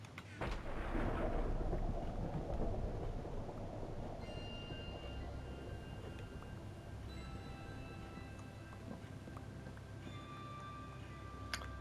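Thunder and rain in the video game Minecraft: a loud rolling thunderclap opens over steady rainfall, which continues as a constant hiss while the rumble fades, with faint tonal game sounds dotted through.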